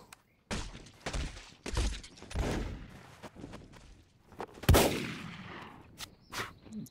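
Gunfire in a competitive shooter game: scattered sharp shots and short bursts with thuds and impacts, loud and uneven, separated by quieter gaps.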